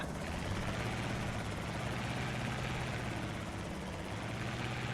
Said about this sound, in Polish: Chyba właśnie po, poleciał helikopterek.